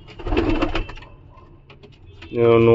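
Giribaz pigeons coo up close amid a voice talking, with a burst of bird noise early and a louder, sustained throaty coo near the end.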